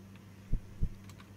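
Two deep, muffled heartbeat thumps, evenly spaced, over a low steady hum in a horror video game, loud and close with no talking.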